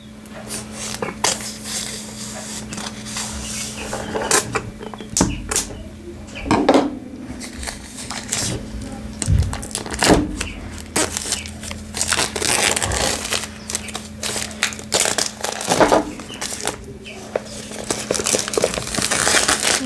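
Plastic wrap on a tarot card box being cut and crinkled by hand, with irregular crackling, crunching bursts close up and a faint steady hum beneath.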